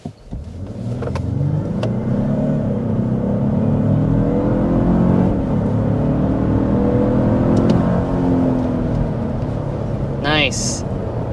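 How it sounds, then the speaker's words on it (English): A 2025 Lexus LX 700h Overtrail hybrid SUV pulls away hard from a standstill in sport mode, a steady engine and drivetrain roar swelling and holding over several seconds, with a short electronic chirp near the end. "All right, sport mode acceleration from a stop."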